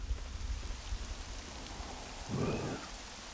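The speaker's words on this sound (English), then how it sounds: "we've got rain" Rain falls in Devil May Cry 3 Special Edition, a steady broadband hiss with a soft low rumble, briefly swelling louder near the end, with no talking.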